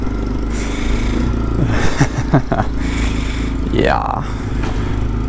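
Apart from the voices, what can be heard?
Templar 250 engine starting and running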